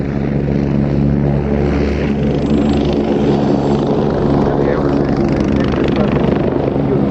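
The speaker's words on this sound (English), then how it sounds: "Augusta 109, Roger, reports complete and ready to taxi and refuel" An Agusta 109 helicopter with its engine running, a loud, close, continuous turbine and rotor drone that holds steady throughout.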